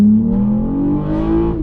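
A Toyota Camry V6 accelerating hard, engine note rising steadily in pitch as revs climb over a couple of seconds, loud and close with no talking.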